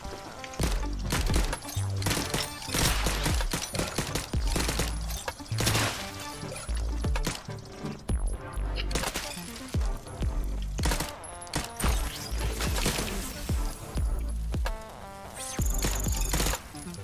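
Charged shots fire in the video game SodaCrisis, with rapid bursts of electronic blasts, crashes and impacts layered over game music, loud and continuous.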